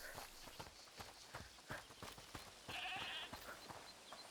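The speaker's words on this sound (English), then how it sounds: "Is that the goat he talked about?" A goat bleats in a video game scene amid soft rhythmic clip-clopping footsteps, the bleat a short, faint nasal cry in the middle, all quiet and close.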